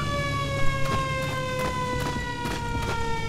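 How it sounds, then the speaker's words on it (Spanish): An air-raid siren wails steadily in the video game Battlefield 1942, a loud sustained tone with layered harmonics, broken by a few sharp thuds and bangs of in-game action. "Esa sirena es guay, sí."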